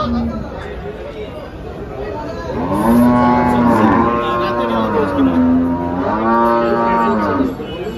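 Cows low repeatedly at a busy cattle market in Dhule, two long drawn-out moos rising over steady crowd chatter and background voices.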